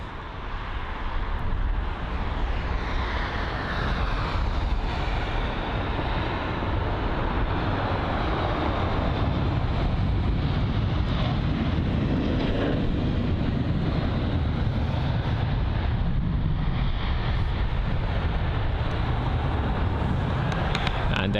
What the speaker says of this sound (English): A320-200 arriving from Frankfurt.